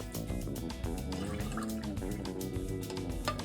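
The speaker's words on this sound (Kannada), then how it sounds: "ನಾನು ನೀರು ಹಾಕ್ತಿದ್ದೀನಿ ಈಗ 2 ಕಪ್ಪು" Water poured into rice for paneer pulao, a faint steady trickle and splash in a pot, with a few drips, heard alone at low level.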